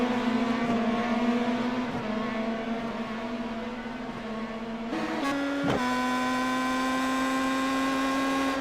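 Race cars lap a racing track, their engines a sustained, steady drone whose pitch shifts briefly midway as one car passes or changes gear, then settles back into a continuous roar.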